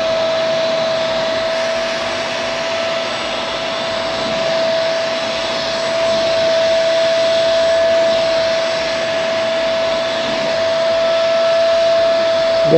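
VacMaster carpet and sofa cleaner running continuously with a loud, steady suction roar and a persistent high motor whine, its airflow wavering slightly in pitch and strength throughout; no voices.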